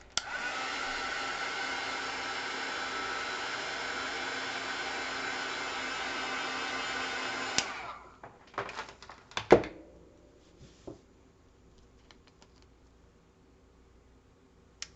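Heat tool drying paint on a mixed media tag, a loud steady blowing roar for about seven and a half seconds that cuts off abruptly, followed by scattered handling clicks and taps.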